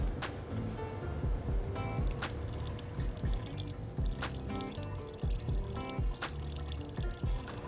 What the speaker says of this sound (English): we're going to loosen this until we start to see the coolant flow out